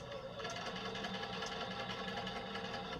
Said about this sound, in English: I am going to sew 1/4 of an inch on one side and then 1/4 of an inch on the other.